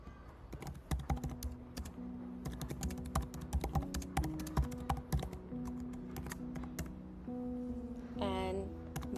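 Rapid, uneven keystrokes on a computer keyboard while Java code is entered, clicking steadily through the clip over a faint tonal hum, with no talking.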